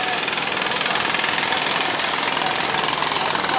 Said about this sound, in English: Here you got the sidecar waiting for some passenger or freight.